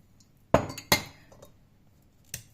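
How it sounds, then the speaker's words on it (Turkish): A spoon stirs chaste tree seeds in water inside a coffee pot, giving two sharp close clinks against the pot and then a third lone clink a moment later, near and clear with no voices. "Bunları beraber çektim ve karıştırıyorum biraz"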